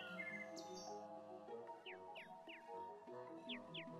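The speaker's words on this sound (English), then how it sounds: "Birds, don't need birds." Birds in the video game Terraria chirp in short, repeated high tweets over a soft layered musical background, quiet and clear with no talking.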